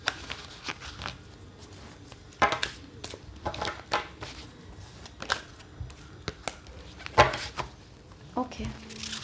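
Tarot cards being shuffled by hand, a series of crisp riffling and slapping bursts spread through the clip with quiet gaps between them.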